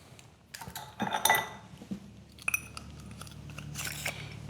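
Ice cubes clink and rattle into a cocktail glass for a Monte Carlo drink, with several bright knocks and crunchy clatters that come close and fairly quiet over a few seconds.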